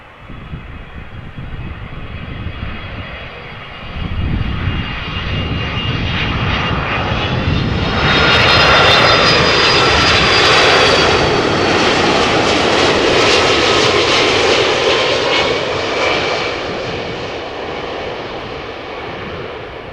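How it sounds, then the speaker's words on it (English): An Icelandair Boeing 767-300ER, 22 years old, arrives from Reykjavik at Amsterdam Schiphol. A low jet rumble swells into a loud, whining roar at its peak, then eases off as the airliner passes. "So here is Icelandair Flight 500 Boeing 767-300ER arriving from Reykjavik"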